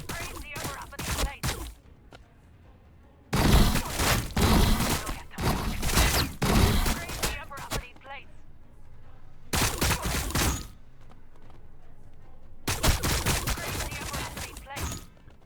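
Bursts of gunfire from a Warhammer 40000 Battlesector multiplayer battle between Astra Militarum and Tyranid forces, arriving in several loud clustered volleys separated by quieter gaps of background battle noise.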